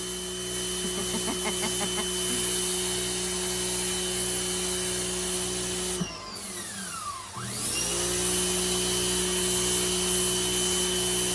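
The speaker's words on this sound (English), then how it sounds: "And she is loving the power washer as well." A power washer cleans a cement driveway with a steady, loud motorized whine and hiss that holds almost throughout, breaking off briefly near the middle before starting up again.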